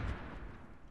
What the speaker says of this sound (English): They're shooting grenades.